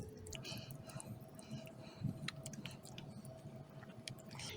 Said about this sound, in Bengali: এটা এখন আমি হাতে করে ভালো করে মেখে দেবো